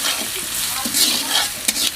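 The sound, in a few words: chopped garlic frying in mustard oil in kadai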